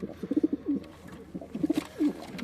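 Soft, low cooing calls from a pigeon, two short bursts of throaty warbling separated by a brief pause, close by with faint background noise.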